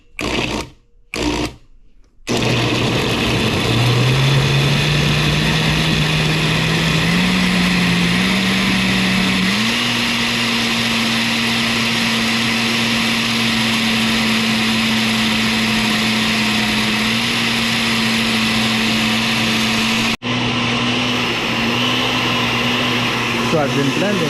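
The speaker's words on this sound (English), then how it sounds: "Just cover the blender, and we're gonna pulse just to get it started." A blender runs on Guyanese hot pepper sauce, starting with a few short pulses before settling into a loud, steady whir whose pitch climbs slightly as it keeps going, then a brief cut near the end.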